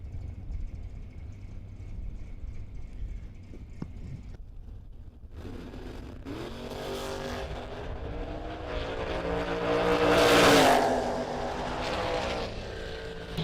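Two drag race cars, an '87 Cavalier with a 410-cubic-inch small-block Chevrolet and a '67 Firebird, roar into a rising, high-revving engine howl that peaks loud near the end after a quieter idle stretch.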